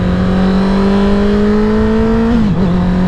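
A 2021 Honda CBR650R motorcycle pulls hard in first gear, its engine tone climbing steadily in a loud, continuous rev before dipping briefly near the end, close and with no talking.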